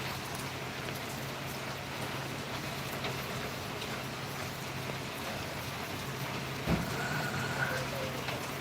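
Afternoon rain falls steadily, a soft continuous hiss of drops on surfaces heard at a low level with a faint hum underneath and a brief louder knock near the end.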